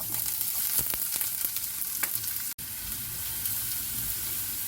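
Sliced onions sizzle steadily in hot oil in a pan while cooking prawns kizhi, a constant close-up frying hiss with a few stirring clicks and a brief break partway through.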